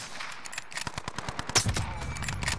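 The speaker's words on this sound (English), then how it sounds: "This is literally a one-shot kill gun." Rapid rhythmic gunfire from a video game weapon rattles in quick bursts of about a dozen close, sharp shots, with a louder blast midway.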